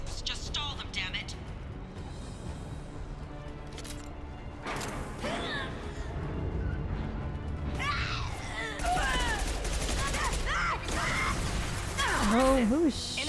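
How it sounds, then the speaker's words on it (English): Scattered gunfire and impacts during combat in Mass Effect 2, sporadic bursts and crashes mixed with mechanical noise and game dialogue, loudest in the latter half and partly under talking voices. "Oh, who's shooting?"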